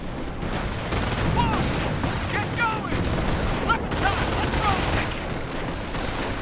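A light machine gun squad firing in the WWII strategy game Company of Heroes, sustained loud rattling bursts with battle noise throughout, a voice talking over the gunfire.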